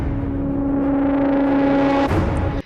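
A sustained distorted synth drone from Komplete 9 builds and then gives way to a loud, booming drum hit from Battery layered with Epic Taiko and Drums of War percussion, with a brief dropout near the end.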